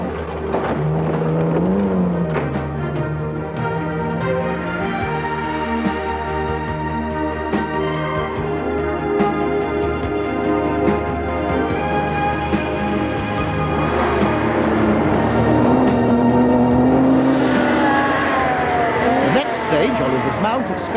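Classic cars race on a narrow 4.4-mile rally stage circuit at Scarborough, setting off at intervals. Engine notes rise and fall in a loud, continuous blend, with a brief tire squeal amid the busy mix.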